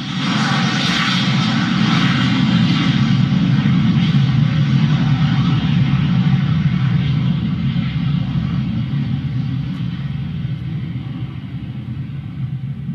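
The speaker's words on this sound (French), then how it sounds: "Voilà, avion décollé en plein soleil." An airliner takes off in bright sunshine, its engines a loud, sustained roar with deep rumble that holds steady for several seconds before slowly easing as it climbs away, with no voices.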